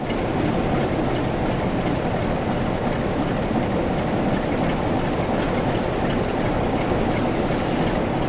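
A ScotRail Class 47 diesel locomotive hauls a train over the West Coast Main Line at Shap in Train Sim World, a steady continuous rolling rumble of wheels on rails with no talking.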